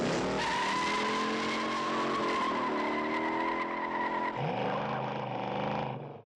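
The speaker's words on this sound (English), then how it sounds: "having the sounds of the powerful muscle cars explode out onto the streets of San Francisco" Powerful muscle cars tearing through San Francisco streets in a film chase, tires squealing in long sustained shrieks over roaring engines, loud and continuous before cutting off abruptly at the end.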